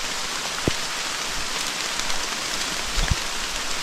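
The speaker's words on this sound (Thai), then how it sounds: "เพราะว่าฝนมันตก" Steady rain patters continuously on a surface, with a few louder drops landing nearby and no voices.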